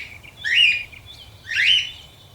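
Two clear, bright bird calls ring out in a forest at dusk, each a short rising-and-falling chirped phrase about a second apart, close and distinct over a quiet background.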